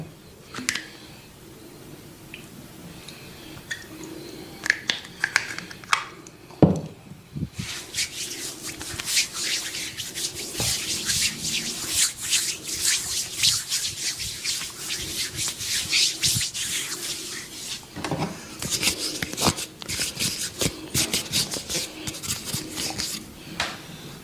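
A massage therapist works a person's back and shoulders with steady rubbing and brushing strokes, dense and continuous after the first few seconds, with a few sharper knocks early on and no talking.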